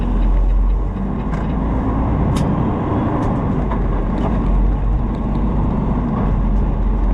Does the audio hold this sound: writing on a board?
no